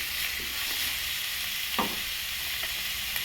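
Chopped vegetables frying in a pan for bun dosa, a steady close sizzle and hiss with a single soft stir clink, no voices.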